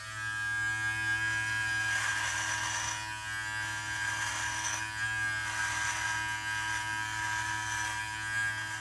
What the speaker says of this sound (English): Now, let's shave the left side.